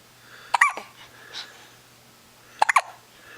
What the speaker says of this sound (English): There's another hiccup.